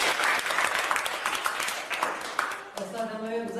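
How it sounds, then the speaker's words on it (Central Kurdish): A group claps for children with dense, lively applause for nearly three seconds, then the clapping fades as a voice starts speaking. "ئافرین چەپڵەیەکی بۆ لێدەن"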